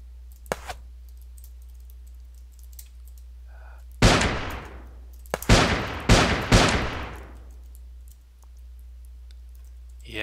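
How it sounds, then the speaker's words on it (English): An empty gun in the Shattered Haven game clicks dry, a few sharp isolated clicks among loud bursts of gunfire-like cracks, several close shots in quick succession over a steady low hum. "Click, I'm out of bullets."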